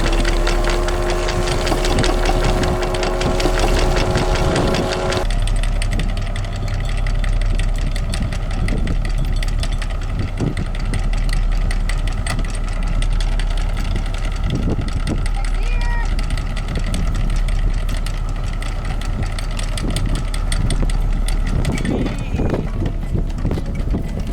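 A sailboat's inboard engine idles steadily close by in gear while the anchor is hauled in, a continuous low rumble with faint clacking and a tonal hum in the first few seconds, and voices speak over it.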